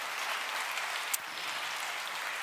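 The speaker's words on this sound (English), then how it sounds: "We can applaud them." Audience applause filling a large concert hall at an on-stage conference event, a steady even wash of clapping from start to finish with no voices over it.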